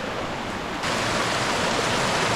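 A forest creek flowing among hardwoods, a steady broadband rush of water that jumps louder partway through as if moving closer to the stream, continuing without any talk.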